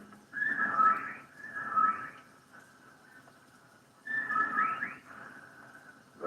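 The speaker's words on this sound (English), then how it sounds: "legion of whippoorwills cried loudly and rhythmically, endlessly" Whippoorwills crying rhythmically as a radio drama sound effect for a Lovecraft horror story, repeated whistled calls in two clusters with a quieter stretch between, faint and somewhat distant.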